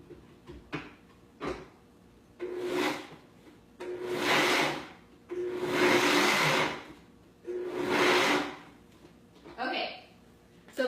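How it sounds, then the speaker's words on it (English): Blender pulsing rolled oats in short bursts, about five loud whirring pulses of a second or so each with brief pauses between, the motor revving up and cutting off each time, close and alone. "So I'm just gonna pulse it in my blender, maybe just a few times"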